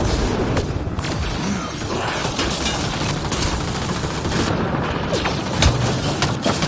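Continuous gunfire in the Mass Effect video game, with loud, rapid shots and booms crowding together in a sustained barrage.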